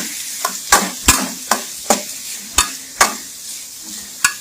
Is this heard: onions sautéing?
yes